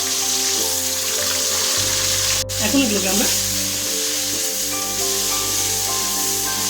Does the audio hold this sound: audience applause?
no